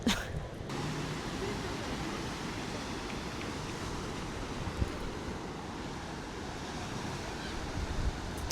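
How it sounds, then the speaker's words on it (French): Ocean waves break along the Casablanca seaside, a steady broadband wash of surf mixed with wind buffeting the microphone, continuous and fairly loud throughout with no talking. "on est au bord de l'océan"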